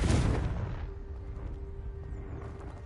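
A Confringo fire spell explodes in the Hogwarts Legacy PS5 video game, opening with a loud, close blast that fades into a long rumbling tail.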